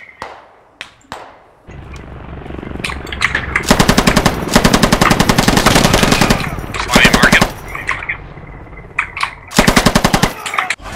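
A Russian PKP machine gun lays down suppressive fire in a video game, with long rapid bursts of sharp, loud shots separated by scattered single cracks and brief pauses, close and dominant throughout.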